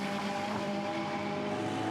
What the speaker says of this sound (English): Really distinct engine note.